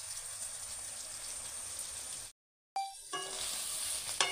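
Chopped carrot and capsicum sizzle steadily in a hot pan, a soft continuous hiss that cuts out briefly, then returns with scraping stir strokes and clicks.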